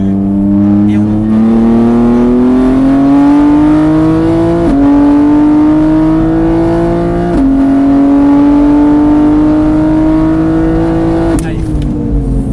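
A race car on the Mireval circuit accelerates hard through its gears, a loud, close engine note climbing steadily with sharp upshift breaks, while a coach's voice talks over it.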